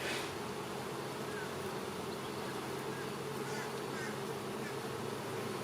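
Honey bees buzz steadily around an open, honey-heavy beehive, forming a dense, continuous drone that fills the whole stretch with no speech.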